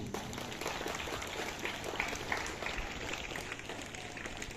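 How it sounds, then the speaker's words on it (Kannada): Applause for a teacher at a school Independence Day celebration, a steady moderate wash of clapping from the gathered crowd lasting several seconds, with a sharp louder sound at the very end. "ಆ ಮಗುವನ್ನು ಸಿದ್ಧಪಡಿಸಿದ ಟೀಚರಿಗೆ ಒಂದು ಚಪ್ಪಾಳೆ ನಮ್ದು."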